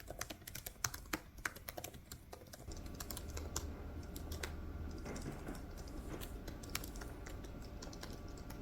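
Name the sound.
typing on a computer keyboard while writing a novel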